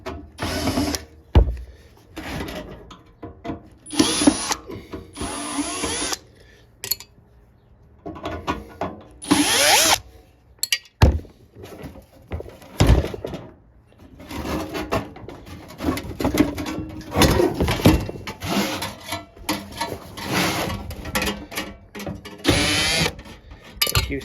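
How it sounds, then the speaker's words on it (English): Screws are backed out of a 1955 Chevy heater box with a whirring driver in repeated short bursts, with ratcheting clicks and small metal clatter between them, close up and fairly loud. "We'll just take all the screws out."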